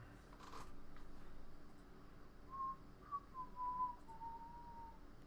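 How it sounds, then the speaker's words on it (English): A person whistles a short tune during a live stream, a few faint, thin, sustained notes rising and falling softly over a quiet background, near the microphone and without talk. "I was whistling that thing."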